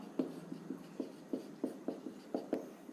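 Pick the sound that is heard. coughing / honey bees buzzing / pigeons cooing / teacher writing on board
teacher writing on board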